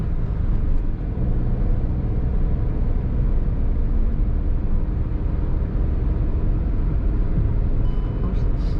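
Steady low rumble of road and engine noise fills the cabin of a Kia Sonet GT Line petrol car while driving, a constant drone with no clear voices.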